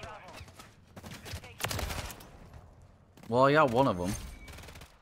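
TAQ Eradicator LMG firing in Modern Warfare 3: bursts of rapid automatic gunfire, with someone talking loudly over the end.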